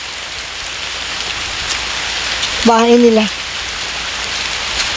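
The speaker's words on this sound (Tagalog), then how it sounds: "Peting ulan na." Steady rain hisses throughout, close and constant, while a single voice speaks briefly in the middle.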